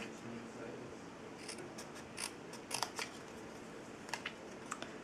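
Scissors snip through paper card stock while cutting out a greeting-card banner, a series of short crisp cuts in small clusters at close range.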